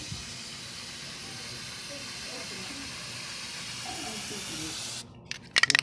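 Chain lube sprays steadily in a continuous hiss onto the chain of a Smash motorcycle, broken off near the end by a few faint clicks and knocks.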